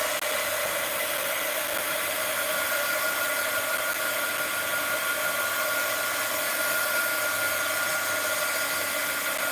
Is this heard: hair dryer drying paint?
yes